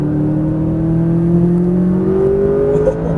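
A McLaren 570S engine pulls hard under steady acceleration on track, its loud tone rising smoothly through the rev range for a few seconds with no speech.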